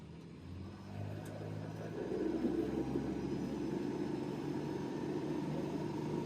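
A new Beta Marine 20 diesel inboard on an Alberg 30 sailboat runs at full throttle, a steady loud low drone that swells in the first two seconds and then holds even and powerful throughout.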